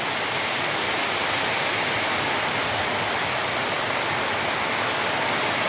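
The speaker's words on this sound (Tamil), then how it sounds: "நேரத்தோடு இன்றைக்கி சரியான மழை." Heavy rain pours down in a dense, loud, unbroken roar of drops, constant hiss with no talking.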